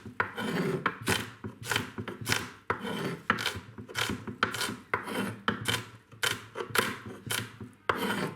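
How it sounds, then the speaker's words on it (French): A knife dices red onion slices into small cubes on a board, a brisk run of sharp, close chopping strokes in an irregular rhythm, with no talk. "Pour ensuite les couper en petits cubes."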